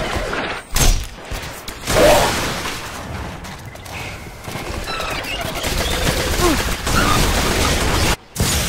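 Enemy gunfire in the video game Destiny, with bursts of shots and thuds rattling steadily over several seconds under a busy game mix, and voices talking throughout.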